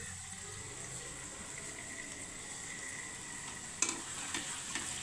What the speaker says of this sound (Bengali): চিনিটা একটু নাড়াচাড়া করেই আমি এই পেঁয়াজ বাটাটা দিয়ে দেবো